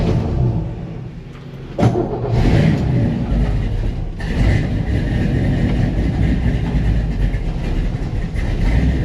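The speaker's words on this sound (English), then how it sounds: "get the project truck out the way" A project truck engine runs steadily as it is driven out of a repair shop, a loud continuous rumble with brief surges and a clunk near the start.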